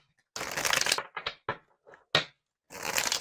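A tarot card deck being shuffled in several quick riffling bursts separated by short pauses, close and crisp, with no talking.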